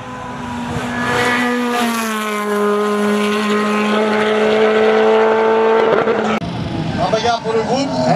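A race car takes a chicane at the Gavray hill climb, its engine a loud, sustained tone that drops slightly in pitch and runs steadily before cutting off near the end, leaving crowd and ambient noise.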